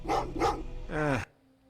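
Dogs in the video game Terminator Resistance: two quick, close barks followed by a longer, whining growl that cuts off abruptly, all loud and near.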